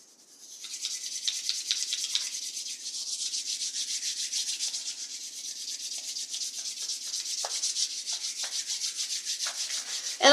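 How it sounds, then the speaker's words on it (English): Palms are briskly rubbed together to warm the hands, a close, soft, rhythmic swishing friction that repeats steadily for several seconds. "And to do palming, we're going to warm up our hands. Especially the palms."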